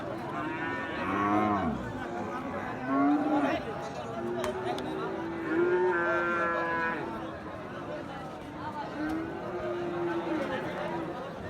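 Australian and crossbred Friesian bulls at the Ambari cattle market moo several times, long, drawn-out calls close by, while people talk in the background.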